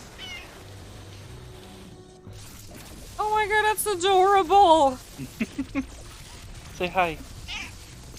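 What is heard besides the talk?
pet cat meowing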